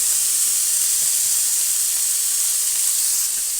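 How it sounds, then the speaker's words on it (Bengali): Potato and cauliflower fry in a pan for a samosa filling, giving a steady, close, even sizzle with no talk. "আলু আর ফুলকপিগুলো একসঙ্গে আমি এই আলু ফুলকপি ভাজার মধ্যে দিয়ে দেব"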